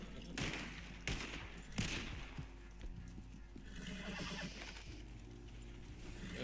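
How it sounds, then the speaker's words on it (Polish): An agitated horse whinnies in Red Dead Redemption Online, a faint, drawn-out neigh over a busy game soundscape with scattered gunfire bursts and hoof clatter, all quiet and distant. "Koń mnie się zbulwersował."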